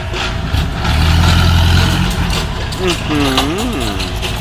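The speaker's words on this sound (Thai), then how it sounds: "ตอนนี้แมคโครก็เคลียร์ดินก่อนครับเคลียร์พื้นที่ฮะ" An excavator clears soil near a six-wheel dump truck, a loud, steady diesel rumble with a brief rising hydraulic whine, while someone talks over it.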